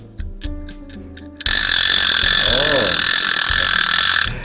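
An alarm clock ticks steadily at close range with a mechanical, ratchet-like character, loud against a constant hiss. Someone speaks briefly before the ticking starts.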